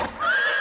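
A single horse whinnies in a short, loud, rising-then-steady neigh, heard alone without any talking.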